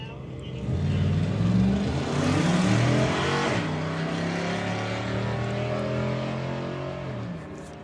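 Drag racing cars at the Greenlight Nationals roar down the strip, a loud sustained engine drone with rising and falling pitch as they run through the gears, with a commentator talking over it.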